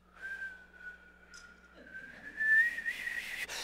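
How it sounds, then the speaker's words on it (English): A stovetop kettle whistles in one sustained shrill tone, wavering slightly and growing louder and harsher toward the end. "Man, that thing will start whistling."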